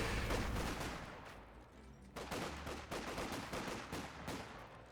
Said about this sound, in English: A rifle grenade does impact.